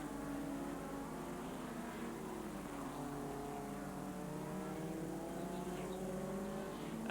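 Clubman race cars lapping a Scottish racing circuit, heard as a steady, distant engine drone with shifting pitch as cars pass, faint and continuous without speech.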